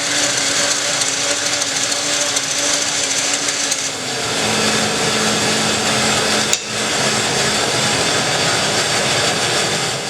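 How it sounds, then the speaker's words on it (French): A band saw whines steadily while rough-cutting wood, a harsh sustained buzzing tone that shifts pitch midway, with a brief sharp knock partway through. "dégrossissage à la scie à ruban"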